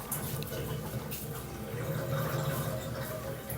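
Lukewarm water runs steadily from a tap into a basin, a continuous close splashing hiss with no break.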